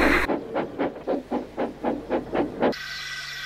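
A steam engine on a hill train stops with a run of rhythmic chuffing bursts and hissing steam, fairly close, and then a steady hiss of released steam.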